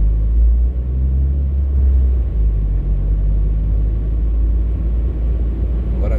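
A car drives along a street in Porto Alegre, heard as a loud, steady low engine and tyre rumble that holds throughout with no other sounds over it.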